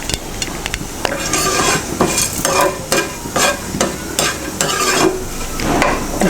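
Chana dal and mustard seeds fry in hot oil, tempering for a cabbage coconut curry. A loud, close, crackling sizzle is broken by repeated bursts of spoon stirring and scraping against the pan.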